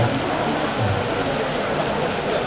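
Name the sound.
rain falling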